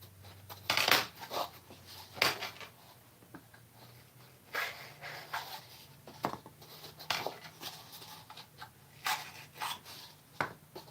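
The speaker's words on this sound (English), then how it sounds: "I've got scissors here, so I'm going to go ahead and poke holes in the bottom of them." Scissors jab drainage holes through the bottoms of plant pots, making irregular scraping, crunching bursts at close range, separated by short quiet gaps.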